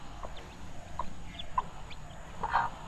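A chicken clucks in short, separate calls a few times over a low, steady background rumble, moderately close and not loud.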